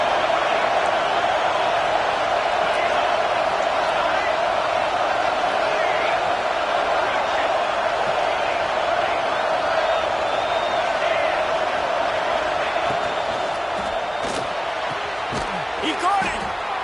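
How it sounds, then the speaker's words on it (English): Home crowd roaring at a UCLA versus Penn State college football game, a steady dense stadium din throughout with an announcer talking over it. "Man, this crowd really affecting the football game."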